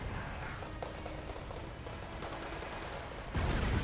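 Sustained gunfire from the real-time strategy war game Wargame Red Dragon, a steady dense crackle of shots throughout that swells louder near the end.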